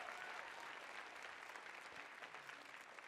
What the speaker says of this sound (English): Can we give them another round of applause, please?